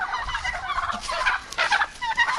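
Nearly mature domestic turkeys gobble in rapid, warbling bursts while squaring off in a farmyard, several rolling calls close by and loud, with brief pauses between them.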